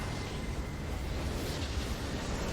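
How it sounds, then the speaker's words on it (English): A Nexus explosion in a League of Legends match: a continuous, dense, roaring blast that fills the whole stretch at an even, heavy loudness, with no voices over it. "Now we got to the Nexus explosion this time around before it crashed"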